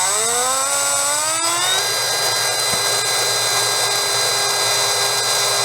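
A Trinity 17.5T slot car motor spins up on a tester and settles into a steady, loud, high-pitched electric whine. A single click cuts in during the rise in speed.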